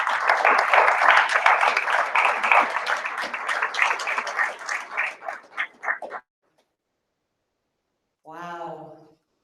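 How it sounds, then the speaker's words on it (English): An audience at a Star Knowledge gathering in Estes Park bursts into loud applause that thins into scattered claps and dies out after about six seconds. A short voice follows after a pause. "So everybody please give a round of applause to granddaughter Crow."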